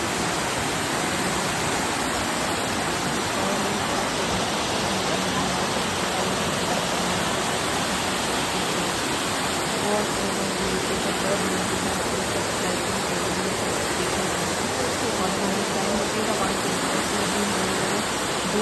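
Elephanta Falls near Shillong, Meghalaya, gives a constant, even roar of rushing water that fills the whole stretch without pause.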